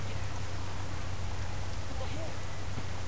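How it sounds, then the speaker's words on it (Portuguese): Steady rainfall in the video game Saints Row: The Third, a soft, even patter of drops on surfaces filling the background at moderate level with no other sounds standing out. "Chovendo, nunca vi chuva."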